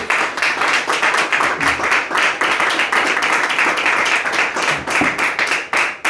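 A church congregation claps steadily and loudly, many hands striking in a fast, roughly rhythmic pattern that continues without pause throughout.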